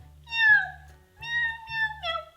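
A person imitates a cat for a toddler's picture book, giving three drawn-out meows in a row, close and clear, with short pauses between them.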